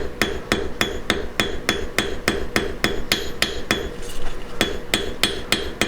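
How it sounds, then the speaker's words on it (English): Flat peen hammer planishing hammer marks out of forged silver wire, a loud, steady series of sharp metallic strikes at an even, quick rhythm, close up with no talk. "Use my flat peen to planish the hammer marks out."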